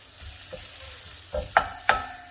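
Onion frying in a tablespoon of cooking oil in a preheated pan, a low hiss broken by three sharp spatula clinks and scrapes toward the end, close and fairly quiet, no voices.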